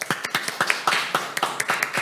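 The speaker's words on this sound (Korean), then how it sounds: "다시 한번 감사의 박수 부탁드립니다" A few people clapping at a Korean panel discussion, thanking a speaker at a children's post-COVID recovery forum; sparse, uneven claps close by with no voices.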